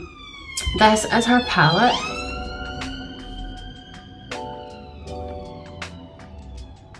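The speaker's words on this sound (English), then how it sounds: "it was just a siren" An emergency siren passes outside, with wailing, sweeping tones that rise and then hold as pulsing whoops, moderately loud under a person talking nearby.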